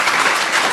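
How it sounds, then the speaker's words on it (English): A brief, dense burst of audience applause for a panel at a voting rights event, many hands clapping at once in a hall, loud and steady. "please give them a round of applause"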